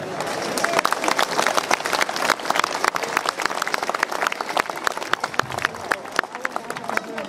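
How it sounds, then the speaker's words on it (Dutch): An audience gives sustained, dense applause after a choir wins a golden award at an event in Wijk bij Duurstede, with many hands clapping steadily and no break throughout. "Mensen, een heel groot applaus voor mensen van Hoorden."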